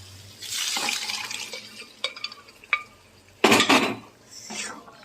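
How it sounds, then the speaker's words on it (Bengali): Peas tipped into fried spice masala in a cooking pan, giving a soft sizzle, then scattered metallic clinks and scrapes of a spoon against the pan, and a sharp loud burst of sizzling near the end. "আর এবারে এর মধ্যে আমি মটরটা দিয়ে দেবো"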